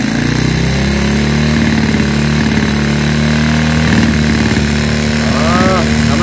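Motorstar Nicess 110cc motorcycle engine fitted with a Wave125 CDI revs hard and steadily, a loud continuous drone with a few quick throttle blips, while people talk over it.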